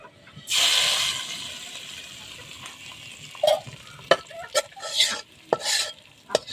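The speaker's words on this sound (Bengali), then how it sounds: "এখন 5 ফোড়ন দিয়ে নিব" Panch phoron tempering for vegetable khichuri hisses sharply as it hits hot oil with browned onions, then settles into a softer sizzle broken by several close, brisk stirring scrapes.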